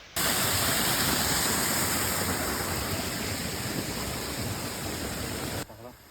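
Broad, steady rushing water of a river in Italy fills the scene, loud and constant nearby, fading slightly near the end.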